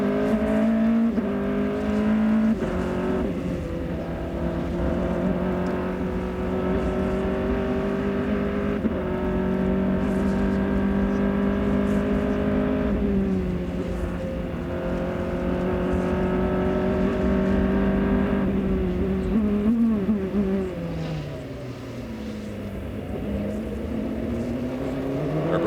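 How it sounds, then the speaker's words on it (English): A 2003 ALMS sports race car at Sonoma roars continuously at close range, its engine note climbing and falling through gear changes as it accelerates hard, loud and steady throughout with no speech. "Take a listen to the motor in this race car."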